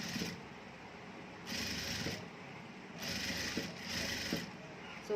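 Sewing machine stitching a gathered frock, running in short bursts: three or four rhythmic mechanical whirring runs with brief pauses between, close and moderately quiet.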